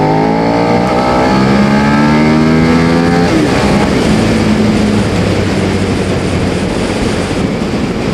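A new Suzuki SV650 motorcycle engine revs loudly up close, its pitch climbing through a rising sweep before settling into a steady, throbbing drone.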